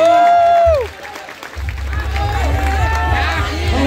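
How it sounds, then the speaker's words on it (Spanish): A crowd cheers and applauds at the final of a freestyle rap battle. It rises into a steady, loud roar after a brief lull, while a host's amplified voice talks over it. "Fuerte el aplauso para Edison"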